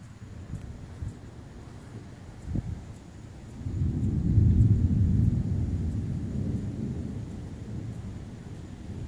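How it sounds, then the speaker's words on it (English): Thunder from lightning directly overhead: a low rumble that swells into a long, heavy roll in the middle, then fades slowly, with faint ambient hiss behind it. "Most of the lightning appears to be almost directly above me now."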